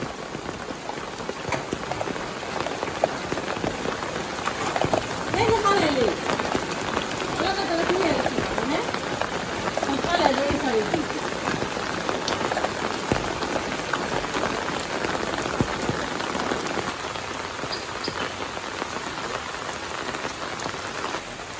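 Steady rain pours on surfaces around a village home during the monsoon, a dense continuous patter of drops with a faint voice briefly underneath.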